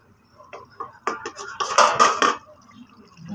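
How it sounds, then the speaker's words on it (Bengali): Metal lid lifted off a pot of steamed chicken, a cluster of bright clanks and scraping rattles in the middle, close and fairly loud, with quieter clinks before and after. "এবার আমি আমার ঢাকনাটা খুলে নিচ্ছি"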